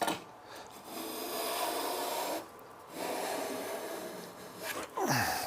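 A hand plane takes even shavings off wood in three long close strokes, each a bright hissing rasp separated by short pauses, with a quick scrape at the end.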